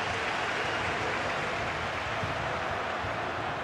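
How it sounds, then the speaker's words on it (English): A stadium crowd at a Serie A match between Cagliari and Roma in FC 24 produces a steady, broad roar that holds evenly and fairly faintly throughout, with no clear peaks. "The crowd encouraging him to take it on."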